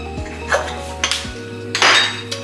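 Seasoned garlic potatoes get tossed in a bowl, heard as a few sharp clinks and scrapes of a utensil against the dish, spread over a couple of seconds with a faint ringing tone underneath.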